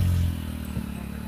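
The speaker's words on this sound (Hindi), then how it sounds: "फिलहाल तो हम लोग बाइक में हैं, तो आपको ध्वनि सुनाई दे रही होगी।" Motorcycle riding toward Parasnath hill in Jharkhand gives a steady, close low engine rumble with slight wavering; no one speaks.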